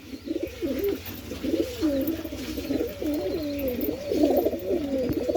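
Domestic pigeons kept at home coo continuously in a soft, rolling, repeated pattern, close by and steady throughout, with no talking.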